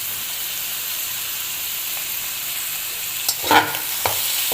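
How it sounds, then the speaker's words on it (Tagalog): Meat sizzles and fries in a pan for batchoy, a steady hiss broken by a few louder stirring scrapes near the end, with no voices. "Halo-haloin natin."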